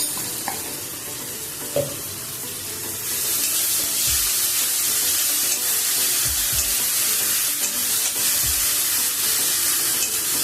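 Half a spoon of ginger paste sizzles in hot masala in a pan for a Bengali pabda fish curry. A steady loud hiss builds after a few seconds, with occasional soft spoon clinks and stirring.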